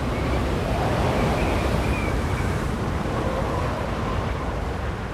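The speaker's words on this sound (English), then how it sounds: "The Creator had caused a great prevailing eastern wind to draw the water back" A strong wind roars steadily over rushing water, a continuous dense wash of noise with no speech, close and sustained throughout.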